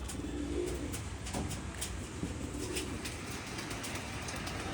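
Kolkata pigeons in a loft give low, soft cooing against a steady background hum and rustle, with occasional faint clicks and flutters throughout.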